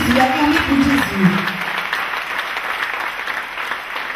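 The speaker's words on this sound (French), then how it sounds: "Clap for Jesus Christ." A church congregation clapping during a sermon, a loud continuous wash of hands under a voice speaking at the start, with the clapping carrying on alone.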